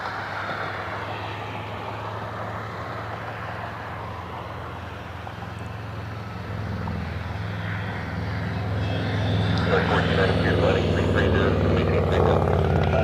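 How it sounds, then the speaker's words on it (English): A Jazz airliner taxis out at Cleveland Hopkins airport, its engine roar a broad steady rumble that swells louder toward the end, with a voice talking over it. "Jazz 736 taxiing out for Toronto."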